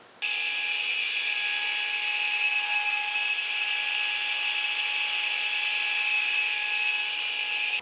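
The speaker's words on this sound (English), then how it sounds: "which way I need to swing the saw in order to make the cut" A miter saw cuts pine while building a country pine wardrobe, starting abruptly into a loud, steady, high whining drone that holds evenly to the end.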